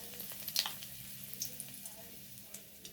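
Dried red chillies go into a hot wok for a Bengali prawn and taro-leaf dish, giving a faint, steady sizzle with scattered soft crackles and pops over about three seconds.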